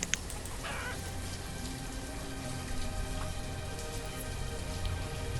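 Steady rain falls in the medieval town-building game Banished, a dense even patter with soft droplet ticks that holds constant throughout, with no voices.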